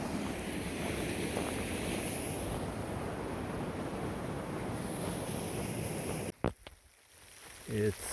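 Roush Creek's flowing water on a rocky stretch along the Appalachian Trail, a dense, steady rush heard up close, with wind noise and a few handling thumps near the end.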